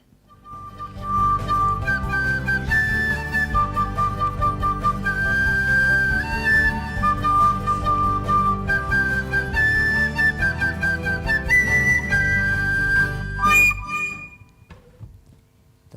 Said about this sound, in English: That's my favorite whistle part that I've heard in a while.